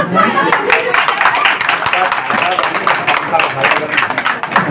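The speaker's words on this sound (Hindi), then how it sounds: "तो ये जो ताली है, गिड़गिड़ाहट है" A crowd claps at a village rally in a Bokaro panchayat, dense loud applause running continuously with a voice talking over it.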